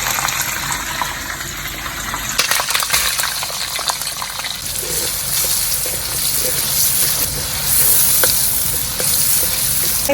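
Steady hiss and crackle of food frying in hot oil, continuous and close, with occasional faint clinks and no talking.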